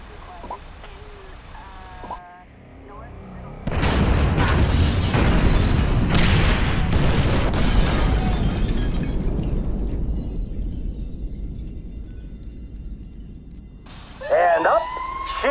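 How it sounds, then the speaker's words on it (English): Incendiary charges detonating in the GTA V story mode, a loud sustained explosive roar that swells suddenly and then slowly fades, followed by a brief burst of voices near the end. "Detonate the incendiaries, Frank."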